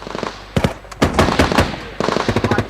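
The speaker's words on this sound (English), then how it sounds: "The one-way firing went on into the night" British forces fire automatic weapons at a compound in Afghanistan: loud, rapid bursts of gunfire arrive in rhythmic volleys separated by brief pauses, harsh and close with no voices.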